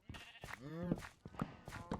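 Bleating goats in the Minecraft video game, a few short wavering bleats in a row, fairly close and moderately loud, with no talking over them.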